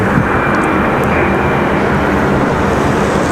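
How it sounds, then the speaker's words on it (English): An Airbus A320 jet airliner departing Raleigh-Durham airport, a loud steady roar of jet engines filling the whole stretch without a break. "Our next departure is going to be Delta 1275 headed back to Tampa on an A320."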